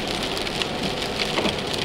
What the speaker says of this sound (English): it's 5 degrees, pouring with rain